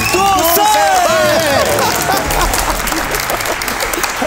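An audience breaks into applause, a dense wash of clapping that fills the whole stretch, loud and close, with crowd murmur and voices mixed in.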